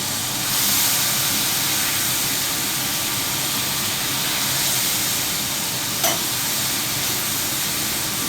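Thin steak and onions sizzle on a low-heat griddle plate, a steady broad hiss with a faint clink partway through and no talking.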